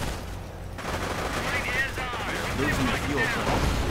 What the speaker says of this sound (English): Rangers coming under fire from the MG-42 on the Geschützwagen, getting sniped.